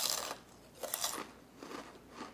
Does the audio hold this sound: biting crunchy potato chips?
yes